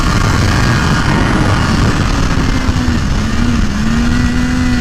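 Triumph Daytona 675R with a slipper clutch, engine note held loud and close as it drops in pitch while slowing into a turn, then climbing again, steady and without talk.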